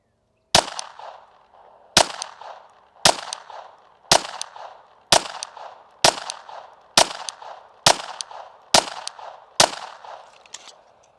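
Ten pistol shots fired one after another at an indoor range at 7 yards, sharp loud cracks spaced about a second apart, each with a short echoing tail, no talk.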